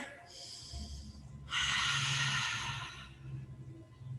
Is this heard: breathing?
yes